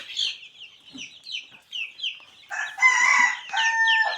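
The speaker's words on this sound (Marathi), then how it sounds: "ही आपली एक महिन्याची पिल्लं आहेत" Month-old village chicks and chickens cluck and peep close by in a busy, overlapping flurry, with louder sustained calls near the end.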